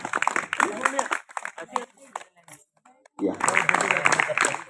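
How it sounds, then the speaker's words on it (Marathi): Applause bursts out from an audience at a Patanjali yoga centre anniversary event in Nanded, broken by a short near-silent pause before loud clapping resumes and continues to the end. "जोरदार टाळ्या"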